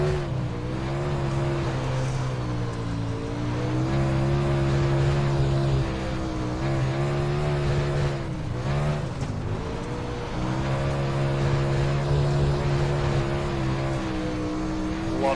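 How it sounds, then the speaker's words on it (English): A race car spins its wheels on the dirt track at Charlotte in iRacing. The engine drones steadily with a high, wavering pitch that rises and dips as the throttle works, loud and continuous with no talking. "A lot of wheel spin."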